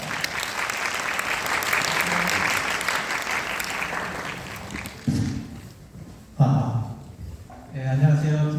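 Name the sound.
applause from the lecture audience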